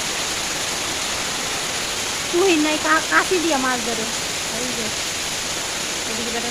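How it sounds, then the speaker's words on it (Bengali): Heavy rain during a storm in Bangladesh, a constant dense hiss of downpour under a nearby voice talking briefly in the middle. "কি অবস্থা বৃষ্টি আর বৃষ্টি"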